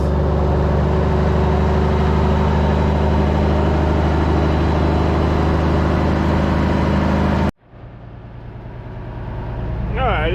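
The engine of a 1980 Autocar semi truck idles around 1,000 RPM, a loud, steady low rumble close by that cuts off sharply partway through and then swells back, with a voice speaking.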